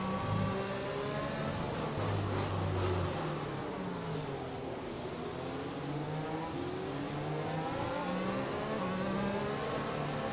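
An F1 2021 race car engine drones steadily and loudly, its pitch climbing and dropping repeatedly as it works through the gears, continuous and close without pause.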